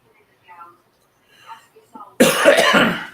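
After a few faint, scattered noises, a person lets out a loud, close, rough cough that lasts about a second.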